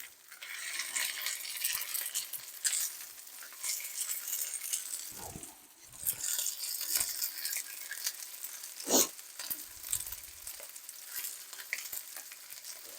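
Chicken breast fries in a generous amount of oil, giving a steady broadband sizzle throughout, with brief clinks and stirring noises around the middle.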